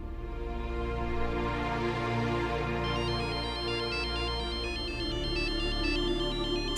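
A telephone ringtone plays a steady, fairly loud electronic melody that runs unbroken for several seconds before it is cut off.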